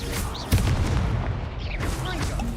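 An explosive Confringo spell blast in the Hogwarts Legacy video game lands as a sudden booming burst over dense, continuous game combat noise and rumble, with bursts of sound effects throughout.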